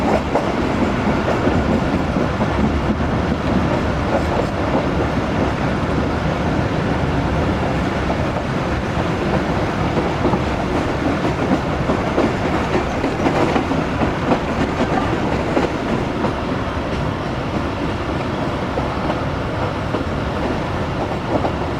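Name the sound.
Tezgam train taking long curve approaching Rahim Yar Khan station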